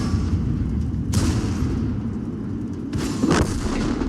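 Two distant booms of tier 9 artillery fire in World of Tanks, each a muffled blast with a broad rumbling tail, heard over a steady low battlefield drone.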